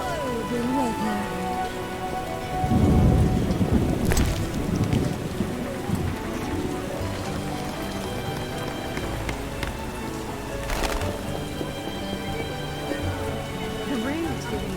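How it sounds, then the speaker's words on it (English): Steady rain pattering on surfaces in The Witcher video game, with a deep thunder rumble early on and sharp cracks later, under low music and game ambience, fairly close and moderately loud. "The rain is getting in."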